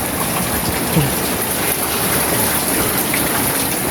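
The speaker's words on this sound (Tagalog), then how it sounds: "buti na lang umulan napakalinsangan" Heavy rain falls in a dense, steady hiss that stays loud and even for the whole clip, with no break in the downpour.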